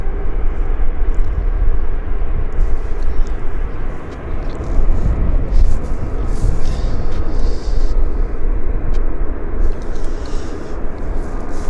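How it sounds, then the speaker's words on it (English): An airliner taxiing at Vancouver airport gives a continuous low engine rumble and roar, loud and steady throughout with slight swells, heard from a spotting position outdoors. "our San Francisco is now taxiing out"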